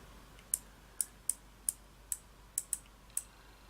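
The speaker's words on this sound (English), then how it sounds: "Can you hear the clicking as the line is taken off the reel?" A Baitrunner fishing reel ticks as line is pulled off under light tension, giving about nine sharp, separate clicks at irregular intervals over a quiet background.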